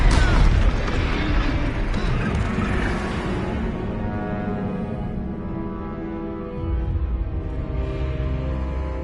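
A Confringo fire spell bursts in Hogwarts Legacy, a loud explosive boom at the start that rumbles and fades over several seconds, followed by a lower swell of blast noise later.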